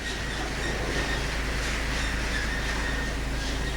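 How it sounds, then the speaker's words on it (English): Skyline gondola cabins in Queenstown, New Zealand run along their cable in a continuous, fairly loud mechanical rumble and hiss with a low hum underneath, no talk. "There we go, all the wee gondolas. Queenstown Skyline gondolas."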